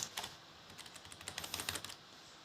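Quick bursts of keystrokes tap on a computer keyboard, faint and close, in an uneven rhythm of rapid clicks that stops near the end; no talking.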